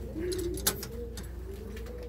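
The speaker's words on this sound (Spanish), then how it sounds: "Y la paloma está aquí." A pigeon coos steadily at close range in a loft, a low warbling hum with one brief sharp knock partway through.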